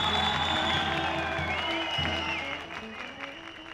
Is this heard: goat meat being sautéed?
no